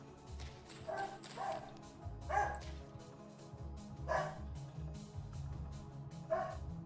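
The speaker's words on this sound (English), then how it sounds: "puppies are lively this morning" Puppies barking in short yappy bursts, several separate barks spread across the moment at moderate distance, with low background rumble and no talking over them.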